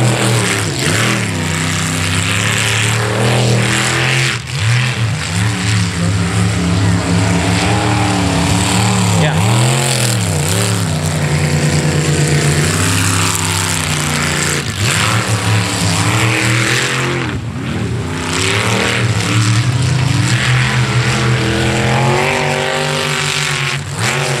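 A loud, high-revving racing boat engine roars continuously, rising and falling in pitch as it speeds along, with a voice talking over it.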